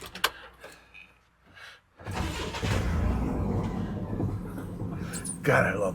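A truck engine cranks and catches after a few clicks and brief attempts, then settles into a steady close idle, with people talking over it.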